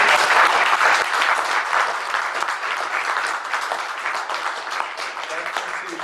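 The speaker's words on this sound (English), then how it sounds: "Can you please give them a round of applause?" Sustained audience applause for a forum panel at an environmental event, dense and steady across the whole stretch, easing slightly toward the end.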